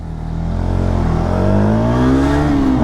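A motorcycle, either a 2026 KTM Duke 250 or a Hero Xtreme 250R, accelerating up through the revs, a loud close engine drone with its pitch climbing steadily and no voices.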